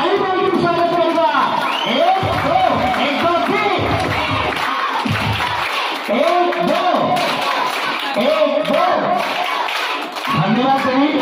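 An audience at a children's cluster-level school festival applauds a prize winner, with loud, sustained, dense clapping and cheering, and voices heard over it.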